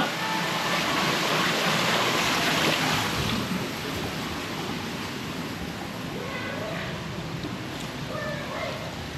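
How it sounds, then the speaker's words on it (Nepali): Water fountain at a garden, a broad, steady splashing rush heard close and loud throughout, slightly fading partway through. "यहाँ पनि रहेछ फाउन्टेन है।"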